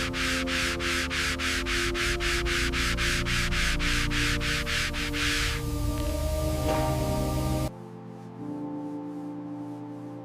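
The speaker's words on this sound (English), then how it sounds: "Maximizing contrast for the sanding." Bugatti Chiron bodywork being sanded before paint, a close, steady run of rhythmic rasping strokes that gives way to a quieter machine hum near the end.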